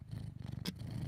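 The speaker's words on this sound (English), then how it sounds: "Listen to my cat purr as he sucks his own leg like it's a teat." A cat purrs steadily and close while sucking on its own leg, a rhythmic low rumble with one brief breathy rustle partway through.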